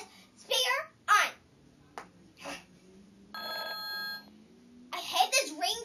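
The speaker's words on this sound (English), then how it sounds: "I hate this ringtone. It sounds horrible." A phone ringtone rings for about a second amid a child's chatter and other voices nearby, with brief bumps and handling sounds around it.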